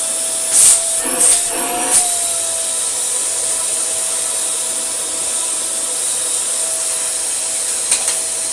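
A Dyson DC24 or DC33 upright vacuum cleaner runs with its brush roll switched off, making a loud, steady whining drone. A few bumps and rubbing knocks come near the start and again near the end.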